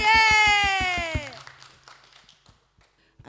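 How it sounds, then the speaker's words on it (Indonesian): Children at a Sunday school service clap in a quick run of about eight sharp, evenly spaced claps under a drawn-out sung cheer. A few softer taps and quiet voices follow. "Tepuk tangan"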